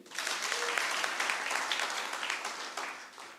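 An audience applauding at a public address, with a sustained burst of many hands clapping that swells quickly and slowly fades, fairly close.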